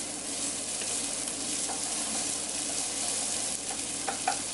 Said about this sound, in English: That way I'm going to sweat that off to cook down the onion